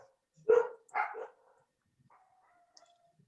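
A dog barks twice in quick succession, fairly loud and close, with a faint thin tone lingering afterward and no talk over it.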